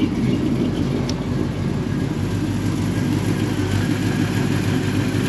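A 1976 Chevrolet C10 pickup engine idles steadily, a low even rumble with no revving, fairly close and unchanging throughout.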